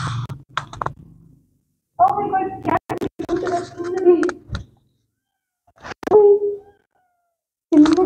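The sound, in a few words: small cat meowing at a dargah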